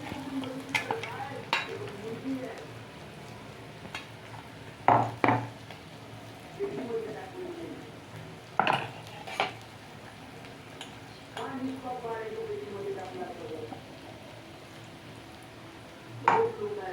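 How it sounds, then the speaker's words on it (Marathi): Ground green chili paste is sautéed for a spicy brinjal bharit, a quiet sizzle broken by repeated sharp scrapes and clacks of a spatula against the pan at an irregular pace. "मिरची टाकून घेतली आहे आता आपण त्याला परतून घ्यायचं"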